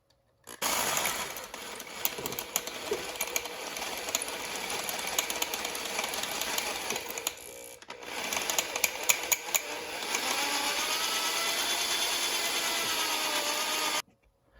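Power drill boring out stuck bolts with left-hand drill bits on a 1982 Honda CB900F motorcycle, a steady close whine running almost continuously with a brief pause midway, then a slightly stronger stretch before stopping.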